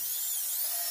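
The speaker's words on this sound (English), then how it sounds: "I drilled holes in all the dowels and now I'm going to put the screws in." A power driver sets an interior screw into a wooden dowel for a stall bar build, giving one brief, high, steady motor whine, close and alone.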